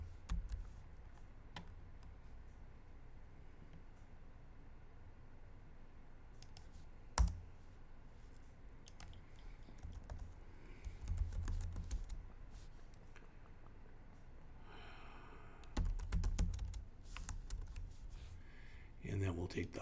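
Scattered keystrokes on a computer keyboard while C# code is written, quiet and irregular, with short bursts of clicks and a few sharper taps against a low background hum.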